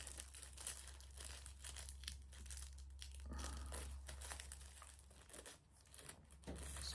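Close, continuous crinkling and rustling of a small plastic bag being opened to reach a Panzer Glass camera lens protector for an iPhone 16 Pro, faint over a steady low hum.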